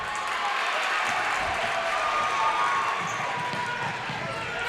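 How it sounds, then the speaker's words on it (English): A basketball crowd roars steadily at a boys high school tournament championship game between Auburn and Freeman, a loud, dense wall of cheering with faint court sounds beneath it. "The Freeman crowd really pumping them up."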